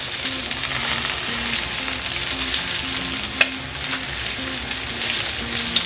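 Pork chops pan-frying in butter, making a loud, continuous close-up sizzle with a faint repeating hum underneath and a couple of sharp crackles or pops, with no talking.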